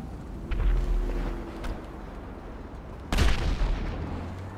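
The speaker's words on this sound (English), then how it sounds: "Yay, explosion." An explosion in Grand Theft Auto V Online booms out as a loud, sudden burst with a rumbling tail, following an earlier heavy thud amid ongoing game noise.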